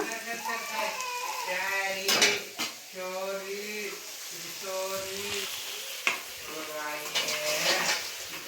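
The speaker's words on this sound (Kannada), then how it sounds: "ಈಗ ನಾವು ಫ್ರೈ ಮಾಡಿರೋ ಅಂಥ ಮಶ್ರೂಮ್ನ ಇದರಲ್ಲಿ ಹಾಕ್ಬಿಡೋಣ." Already-fried mushrooms go into a hot pan for a mushroom pepper dry manchurian, sizzling and frying steadily with scraping stir sounds throughout, while a voice talks over the cooking.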